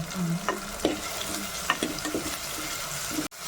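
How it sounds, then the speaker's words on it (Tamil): Tomatoes sautéing in a pan for a fish curry sizzle steadily up close, with intermittent spoon scrapes and taps while stirring, no voices. "தக்காளி போட்டு நல்லா எல்லாமே அது வதக்கணும்"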